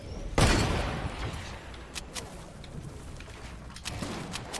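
Fortnite gunfire: one loud close shot followed by scattered fainter shots and crackling pops over a busy background.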